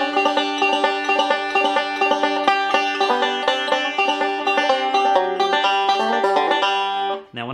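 Five-string banjo picking the opening melody of a tune, with steady rolling notes and the fifth string struck between melody notes, played close and clear, ending abruptly.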